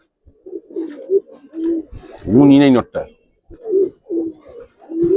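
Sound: Giribaz coloring pigeons cooing

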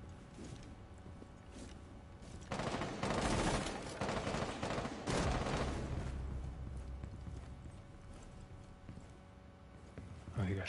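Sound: gunfire in Rainbow Six Siege video game

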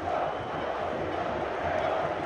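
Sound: Flamengo fans celebrating at Morumbi stadium

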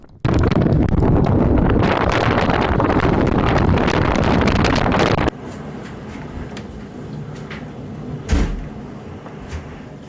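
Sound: strong gusty wind

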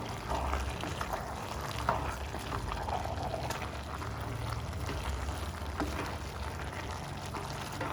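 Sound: fenugreek seeds roasting in pan

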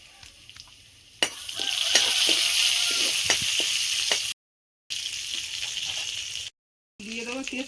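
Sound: garlic and cumin tempering frying in a pan

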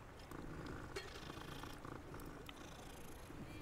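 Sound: serval cat purring in Hogwarts Legacy video game

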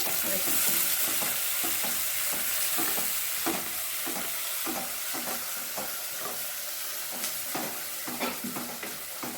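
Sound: onions sautéing in a pan

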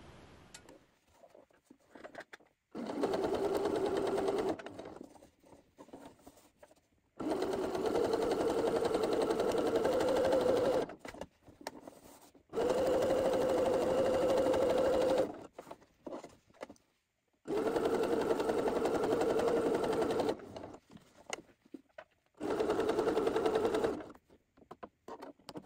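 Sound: sewing machine sewing a collar seam

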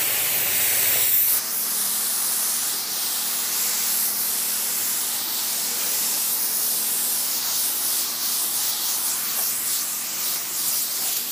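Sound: spray gun applying car paint

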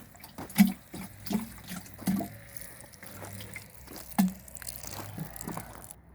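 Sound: watering tomato plants with diluted yeast solution

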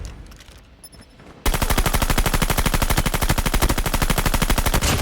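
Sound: suppressed gunfire in video game Call of Duty Mobile

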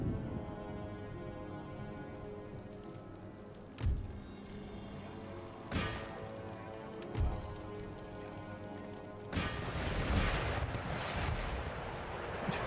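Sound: artillery gun firing, from video game Empire: Total War

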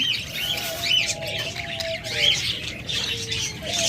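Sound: pet lovebirds and budgerigars chirping in cage

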